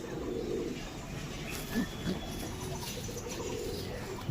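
A restless pigeon held in the hand gives low, throaty coos near the start and again later, close by over a constant murmur of background noise.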